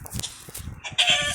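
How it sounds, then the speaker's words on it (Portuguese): A Minecraft chicken clucks in a few short, clipped bursts, followed by a sharp game hit sound near the end, with no talk over it. "Mate essa galinha."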